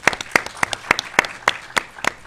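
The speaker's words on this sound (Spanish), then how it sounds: "Un aplauso también para el profesor Evi." Audience applause for a professor at a Spanish-language public talk on media and power: a steady run of about nine sharp clap bursts, fairly close and loud, with no voices over it.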